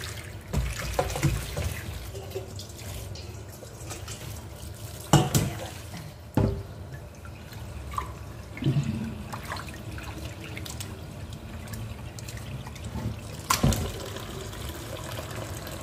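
Tap water runs steadily into a sink while leafy green vegetables are washed, a continuous close splashing hiss broken by a few louder sloshes and knocks, with no talking.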